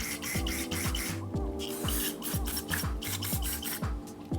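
Cleaner sprayed in repeated short bursts into the jet holes of a Walbro WVF6 CV carburetor from a Vespa ET4 150cc, a steady hissing spray broken by quick tapping and rubbing handling noises, close and fairly loud.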